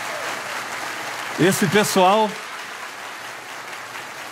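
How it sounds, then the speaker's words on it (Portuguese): Church congregation applauding the ministry team at an inauguration service, a steady clapping that runs under someone speaking Portuguese in the middle and continues faintly after. "cadê as palmas para esse pessoal que está subindo aqui"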